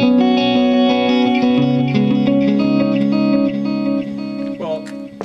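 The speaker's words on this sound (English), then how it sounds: "another cool effect is this Ibanez rotary chorus, which I use for ray gun sounds" A guitar plays sustained chords and notes through a swirling Ibanez rotary chorus effect, ending with a brief pitch-bending warble near the end.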